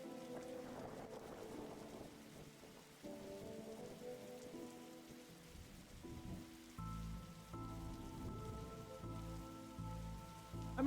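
Rain patters softly in The Darkside Detective video game, faint and steady beneath quiet tonal game music.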